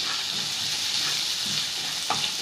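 Red garlic clove with two green chili peppers and hot pepper frying in a pan, a steady close sizzle and crackle with faint stirring and a small clink near the end.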